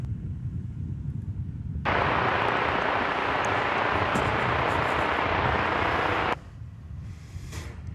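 A Mesa Airlines CRJ 900 ER regional jet operating as United Express arrives at DFW Airport, its broad engine roar rising abruptly over distant background rumble, holding steady and loud for several seconds, then cutting back.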